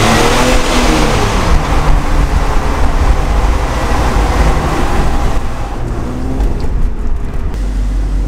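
A car revs through the tunnel at Goodwood, its engine roaring loud and close, echoing off the enclosed walls with a rising, sustained drone and no talking.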